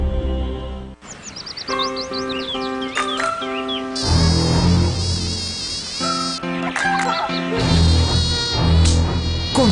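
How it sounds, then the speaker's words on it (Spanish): Mosquitoes buzz in a television commercial for a natural insect repellent, with shrill whining drones rising and falling over a loud, busy music bed. "Esos molestos zancudos"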